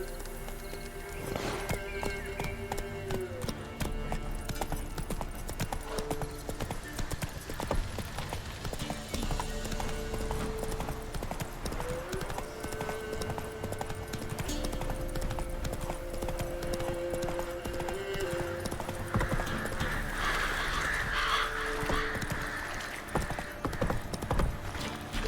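Horse hooves clip-clop steadily on the ground in the video game The Witcher 3, a continuous rhythmic trotting heard up close with a whinny early on and game ambience beneath.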